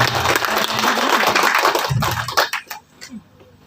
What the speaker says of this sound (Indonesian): kita tepuk tangan lebih kencang lagi